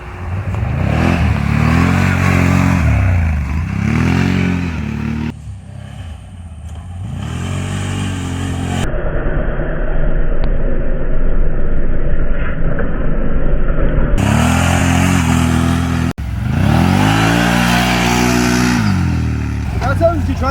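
Engine of a 2021 Can-Am XMR off-road vehicle on 33-inch Aztex tires revving hard through wheelies, loud and near with repeated throttle surges rising and falling across the whole stretch; a voice talks over it.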